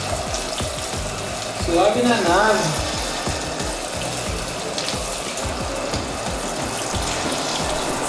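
Water streams steadily from a Lorenzetti hand shower fitted at a hairdresser's washbasin, a continuous close hiss with a low mechanical hum beneath, while someone speaks briefly over it.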